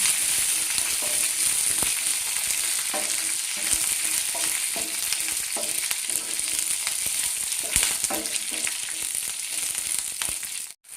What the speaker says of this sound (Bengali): কারি পাতাটা লঙ্কাটা তেলের মধ্যে একটু ভেজে নেবো